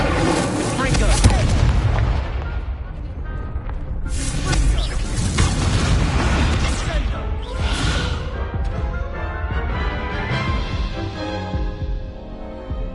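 An Incendio fire spell is cast in the Hogwarts Legacy video game, with heavy booming blasts and whooshing bursts over dense game music and effects. A voice speaks through much of the clip.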